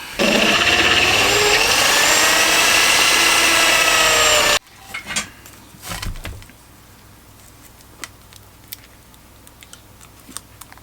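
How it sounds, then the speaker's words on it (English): A loud, close pillar drill whines and grinds through material drilling holes for several seconds, then cuts out, followed by scattered light knocks and clicks. "Did it on the pillar drill this time instead of being lazy."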